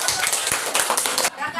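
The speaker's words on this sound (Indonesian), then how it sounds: "tepuk tangan untuk kelompok" Classroom applause for a group of students: a brief, dense burst of hand clapping that stops abruptly near the end, then a short quieter tail.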